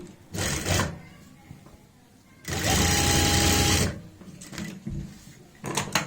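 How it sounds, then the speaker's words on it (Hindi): Sewing machine running a centre seam along a boat-neck kurti neckline, a short whir near the start, then a louder sustained burst of stitching in the middle and brief bursts at the end, close by. "यहाँ पे हम सबसे पहले एक सेंटर की सिलाई लगाते हैं"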